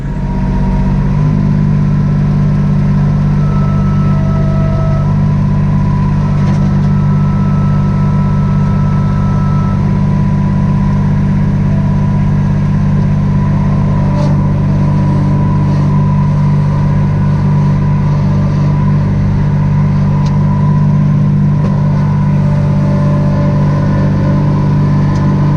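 Kubota B2650 tractor with LA534 loader pushing into snow in four-wheel drive, its diesel engine droning loud and steady throughout, close by, with slight shifts in load.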